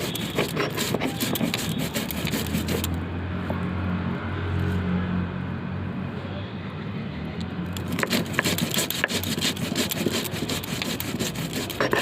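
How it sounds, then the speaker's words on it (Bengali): Chillies, whole cumin and whole coriander are ground together into a paste for village-style chicken, producing close, rhythmic rough rubbing and grinding strokes that ease into a quieter stretch midway before resuming. "গোটা জিরে আর গোটা ধনে দিয়ে দেওয়া হলো এখানে। এটাকে একসঙ্গে বেটে নেওয়া হবে।"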